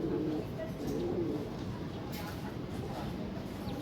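Pigeons coo softly and continuously in a loft, low murmuring calls repeating under steady background noise, with no clear talk over them.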